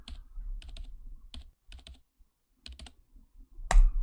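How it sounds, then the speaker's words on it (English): Keyboard typing from a video game: bursts of crisp, close key taps in quick irregular clusters separated by short pauses, ending with a louder sharp thump. "her fingers continued tapping away at the keyboard"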